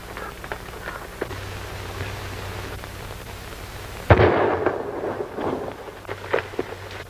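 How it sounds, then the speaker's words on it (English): A single sharp gunshot rings out in a western film set on a frontier trail near an arroyo, a loud burst midway followed by a brief echoing tail over a low background rumble. "That shot came from the other side of that arroyo."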